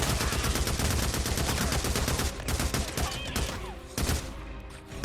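Sustained gunfire aimed at a massive zombie horde in Days Gone on PS5, a dense, continuous rattle of rapid shots that stays loud for several seconds, then thins into scattered bursts with one heavy blast near the end.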